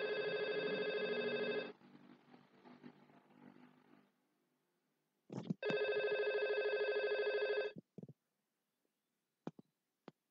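An IP phone rings back while placing a call to a second IP phone: two long, steady electronic ring tones separated by a gap, with faint clicks between and after them, close and clear.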